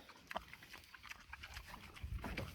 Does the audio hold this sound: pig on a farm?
yes